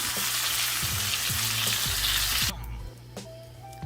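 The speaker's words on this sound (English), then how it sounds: "I just flipped it. And then I'm going to let it brown 5 minutes on this side" A chuck roast browning in a hot pan gives a loud, dense sizzle and crackle with faint stirring knocks, then it drops suddenly to a quieter spitting fry near the end.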